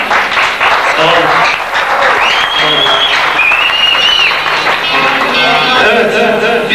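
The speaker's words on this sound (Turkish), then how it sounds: "İyi alkışlanıyoruz ha?" Audience applause at a poetry festival in Yahyalı, a loud dense burst of clapping filling the hall and sustained for several seconds, with a few cheers and a voice mixed in.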